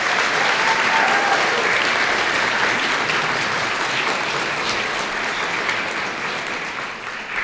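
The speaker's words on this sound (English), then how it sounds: "let's hear a round of applause for these guys" A crowd at a fashion show breaks into loud, sustained applause that holds steady for over seven seconds and eases off slightly toward the end.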